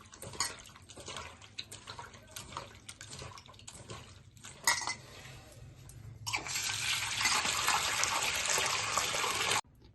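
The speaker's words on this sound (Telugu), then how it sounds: "1 స్పూన్ పసుపు, 1 స్పూన్ సాల్ట్ వేసి మళ్ళీ నీట్గా కడుక్కోవాలి." Prawns are washed by hand in water with turmeric and salt, with splashing, sloshing and clinks of a bowl, then a steady stream of running water near the end.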